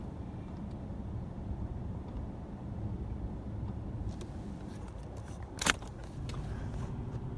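A steady, low road rumble from a car stuck in a traffic jam on a German street, heard from inside the vehicle, with one brief sharp click partway through and no talking.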